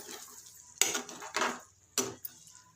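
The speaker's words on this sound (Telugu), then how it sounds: "ఒకసారి కలుపుకొని నిదానంగా సిమ్ములో పెట్టి మళ్ళీ మూత పెడితే ఇదంతా దగ్గరికి అయిపోతుంది" A spoon scrapes and clatters in a pot of spiced brinjal masala curry, with a few sharp metallic knocks, the last like a lid set down on the pot, close and moderately loud.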